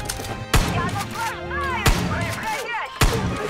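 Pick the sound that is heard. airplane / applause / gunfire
gunfire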